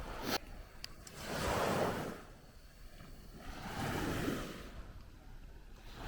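Waves roll in on an empty beach near Bang Bao on Koh Chang, two broad washes of surf swelling and receding under light wind noise, moderately close.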